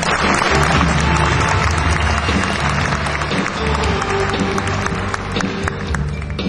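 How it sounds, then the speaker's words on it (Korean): An audience at an early entrance ceremony gives sustained applause, a loud, dense wash of clapping from a large crowd that holds steady throughout, with a low hum beneath. "다시 한 번 더 박수를 부탁드립니다."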